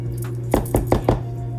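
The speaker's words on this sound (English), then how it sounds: "Take the spatula and get the rest of these goodies off of the fork." Four quick scraping knocks as a spatula clears chocolate chip oat cookie dough from a fork, evenly spaced, close and fairly crisp over a steady background hum.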